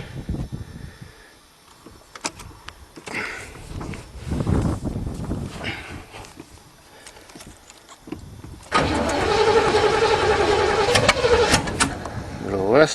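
An old Chevy engine, cold-blooded with a dirty carburetor and no back pressure, cranks and starts on a little choke, then settles into a loud rough idle close by, with someone talking over it.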